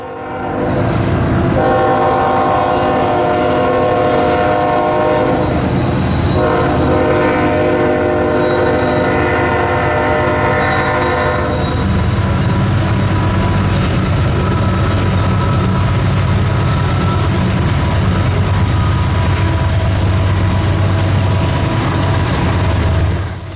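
Freight grain train hauled by three straining GE locomotives on a snowy day, a long loud horn blast sounding at close range over the heavy rumble of engines and rolling cars, which take over as the horn ends.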